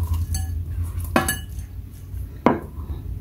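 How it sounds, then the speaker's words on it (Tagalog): Raw shrimp dropped into a bowl in a kitchen, giving a few scattered clinks and knocks of dishware over a low background hum, with no talking. "Ilagay natin sa bowl ang mga hipon."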